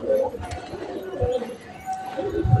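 Pigeons coo softly in low, rolling calls, with a few bird vocalizations close by against light background noise.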